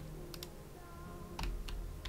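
Keys tapped on a computer keyboard while entering text in a Roblox game, a few quiet scattered clicks with a short quick burst near the end, alone without talk.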